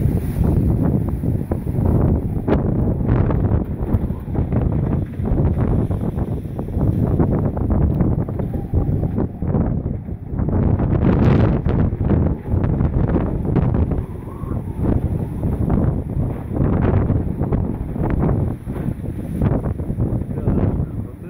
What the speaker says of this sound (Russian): Да, вот это и есть ураган.